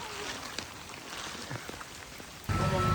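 Steady rain patters and hisses all around on a farm, with scattered drops striking a surface, growing noticeably heavier and louder toward the end.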